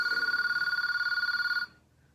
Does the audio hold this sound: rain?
no